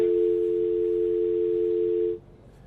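A steady telephone tone sounds loud and alone for about two seconds after a phone call to a news reporter drops, then cuts off abruptly, leaving faint background hiss.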